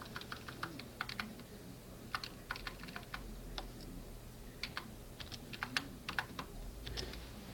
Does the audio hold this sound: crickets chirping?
no